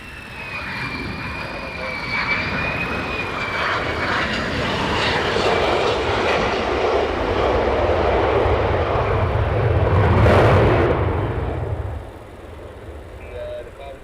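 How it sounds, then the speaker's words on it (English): F-15 or F-35 military jet inbound to land on runway 24 at RAF Lakenheath at night, a loud sustained roar that builds, peaks near the end, then drops away, with a high whine early on. "So another one inbound here at runway 24, in use at RAF Lakenheath today"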